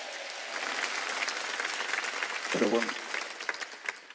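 A church congregation claps at a Wednesday worship service, a broad wash of applause running throughout with a preacher's voice calling out over it partway through.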